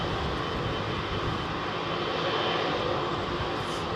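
A Delta SkyTeam-liveried Boeing 767 with CF6 engines at London Heathrow produces a steady, broad jet roar that holds at an even loudness throughout, with no voices over it.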